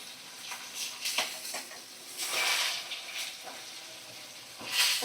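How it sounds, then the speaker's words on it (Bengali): Fish frying in a pan gives a moderate, uneven sizzle and hiss that swells and fades in several bursts, with faint stirring noises and no talking. "আর এক সাইডটা ভালো করে ভাজা করে নিচ্ছি"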